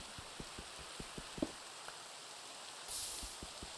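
Steady rain hisses softly in a Minecraft skyblock world, with evenly spaced clicks from mining cobblestone ticking over it and a brief brighter splash near the end.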